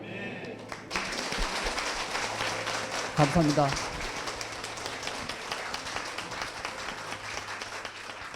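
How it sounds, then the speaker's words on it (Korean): A church congregation at a Full Gospel church service breaks into sustained applause, a steady wash of clapping that fills the room throughout, briefly swelling midway while a voice speaks over it. "영광의 박수를 보내고 싶습니다."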